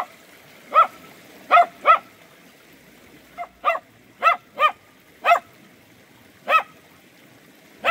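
Sharp, single barks from a dog out in the open countryside, coming one at a time at irregular intervals with quiet between them, clear and fairly close, with no voices heard.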